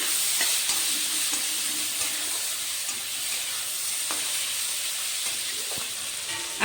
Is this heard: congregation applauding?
no